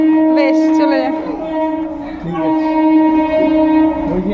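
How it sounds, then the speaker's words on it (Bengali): An approaching train sounds a loud, sustained horn-like tone that holds for several seconds, close and dominant, with a short dip in the middle. "ট্রেন আসছে, আবার ট্রেন আসছে"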